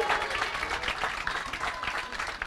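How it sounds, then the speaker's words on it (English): Church congregation clapping in a reverberant hall, a steady wash of many hands continuing throughout the short stretch at moderate loudness. "Some of them clapping."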